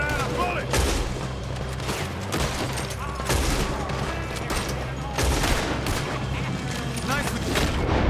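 Gunfire rattles through a shootout in Red Dead Redemption 2, repeated loud cracking shots and bursts in quick succession with booming echoes, mixed with shouting voices.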